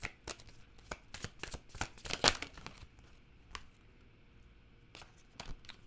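Tarot cards being shuffled and snapped in quick irregular bursts, crisp papery flicks with a loud flurry near the middle, close and alone without talk.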